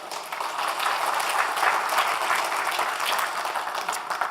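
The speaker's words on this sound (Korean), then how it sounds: "네, 동의하시면 박수 한번 해주세요." An audience at a 2014 political debate forum claps together in sustained, dense applause that holds evenly for about four seconds.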